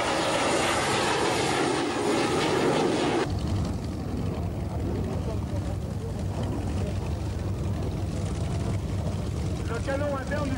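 A jet aircraft roars past at an air base display, a loud sustained engine rumble and hiss that shifts tone partway through, with someone talking over it.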